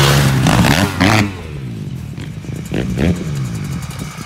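Loud motorcycle engine revving nearby, a harsh throaty roar rising and falling in several quick throttle blips, then settling into a rough idle.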